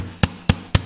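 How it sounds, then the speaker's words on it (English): Three sharp hammer taps land about a quarter second apart, close and solid, with quiet between each strike, tightening the rush weave of a chair seat. "I want to make this tight in here, so I'm going to hit it with my hammer each time"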